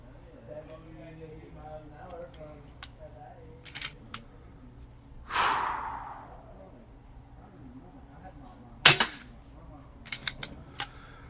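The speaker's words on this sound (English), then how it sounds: "And finally, last shot." Umarex Zelos .25 air rifle fitted with a moderator firing a single shot, a sharp muffled crack standing out against a quiet background, with a few softer clicks and handling sounds around it.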